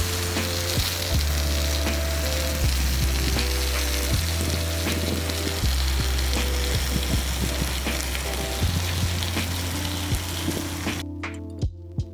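Marinated carne asada steak sears loudly in a hot pan, giving a continuous crackling sizzle with scattered pops and spits. It ends with a brief quieter stretch of sharp ticks.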